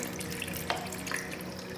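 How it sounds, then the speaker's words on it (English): A makeup brush rubbed with fingers under a running kitchen or bathroom tap, giving a steady, faint hiss of flowing water with small splashes. "under the tap, I just rub the brush with my fingers under the flow of the water"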